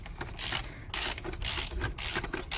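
A ratchet fitted with a 32mm socket clicks in quick bursts while loosening the oil filter on a VW Passat TDI, close and crisp, with about five short swings separated by brief pauses.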